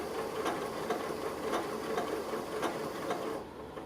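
A sewing machine stitches the corner of a fabric bucket in one continuous close run, its needle pulsing rapidly and evenly before stopping.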